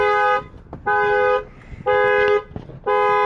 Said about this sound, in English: The alarm works, so that's always good.